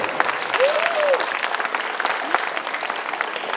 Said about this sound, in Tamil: நல்ல ஒரு கைதட்டு.